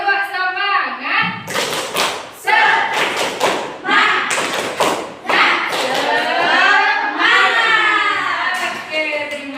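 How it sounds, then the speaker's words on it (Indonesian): A classroom doing a rhythmic spirit clap, sharp thumps and claps in a patterned beat mixed with children's voices chanting along, with the group's chant carrying over the claps throughout. "kita tepuk semangat dulu boleh? Boleh ya, tepuk semangat."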